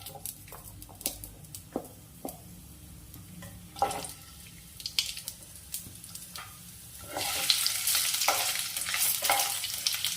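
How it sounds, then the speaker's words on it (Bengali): Potatoes fry in oil in a home kitchen while a utensil stirs them in scattered scraping clicks. A soft steady sizzle runs underneath and grows into a louder, brighter hiss near the end. "আলুগুলো একটু ভাজা ভাজা হলেই বাকি সবজিগুলো সব এইভাবে তেলের মধ্যে নেড়ে নেব"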